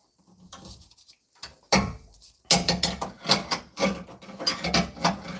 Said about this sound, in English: Get the other wrench on it and go at it.